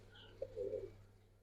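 A single soft, low coo from a silver Giribaz pigeon, an old-breed Bengali flying pigeon, rises briefly over a faint steady hum in an otherwise quiet space.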